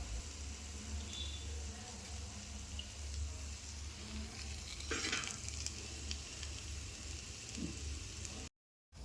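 Fish pieces fry in hot oil with a steady close sizzle and bubbling throughout, with a brief louder crackle midway and no voices.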